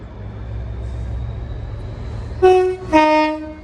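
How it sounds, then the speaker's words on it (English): Low rumble of a passing freight train hauled by locomotive 66425 in the West Midlands, then two short, loud horn blasts close together near the end. "the next freight train is about to pass through"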